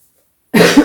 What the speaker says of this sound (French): Et je tousse encore.